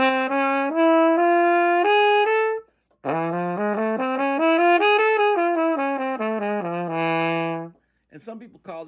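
Solo jazz trumpet plays an augmented scale of alternating half steps and minor thirds, two clear ascending runs of sustained, bright notes, loud and close, separated by a short pause, with a brief fragment of trailing notes at the end.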